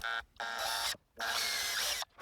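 Small drill boring a hole into a fishing lure body, two bursts of high whirring with short pauses between them and a brief third start at the end, close and clear.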